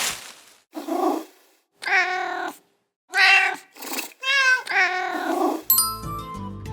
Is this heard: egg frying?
no